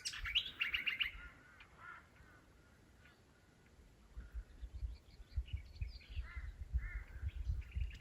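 Crows and other birds calling from a roadside stop in outback Queensland, with a burst of harsh calls at the start and scattered calls later over low wind rumble.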